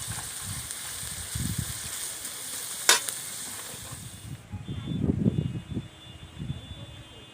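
Onions fry in a pan until reddish, a constant light sizzle broken by one sharp clatter and low thumps of stirring, the frying noise dropping away partway through.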